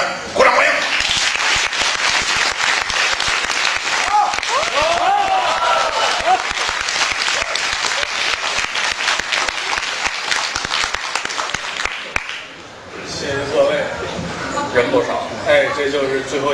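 A Beijing crosstalk audience gives continuous rapid applause to welcome the performers. A voice talks over the clapping before it dies away near the end, leaving quieter speech.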